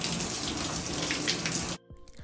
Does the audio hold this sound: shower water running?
yes